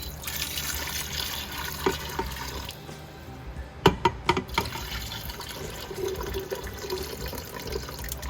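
Broth pours steadily over chicken in a pot in a continuous wash, with a few brief splashy knocks partway through, close and moderately loud, no talking.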